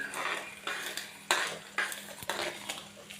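Tamarind jal jeera gets stirred in a pot with a spoon, giving repeated scraping swishes and a few metallic knocks against the pot in a steady rhythm, close and moderately loud over a low hum.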